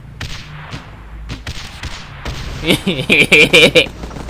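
Gunfire in the mobile game Guns Up Mobile: a few sharp shots and thuds spaced out early on, then a quick run of loud, ringing, tonal bursts near the end.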